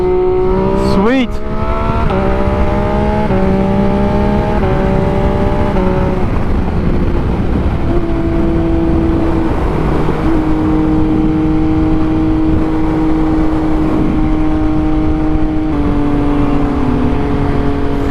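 A McLaren 765LT sports car roars past, its engine note rising and falling through gear changes over a loud, constant rush of wind and road noise.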